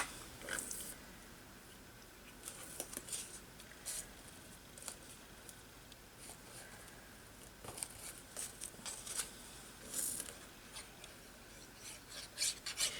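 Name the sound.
rubbing paper pieces down while gluing a collage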